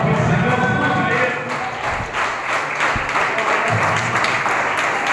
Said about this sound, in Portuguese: Vamos aplaudir o Senhor, vamos ver.